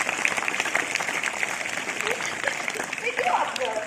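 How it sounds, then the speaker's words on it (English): Audience clapping at a school Kargil Vijay Diwas celebration, a steady dense patter of many hands filling the hall at moderate loudness throughout, with faint crowd murmur mixed in. "Let us give them another huge round of applause."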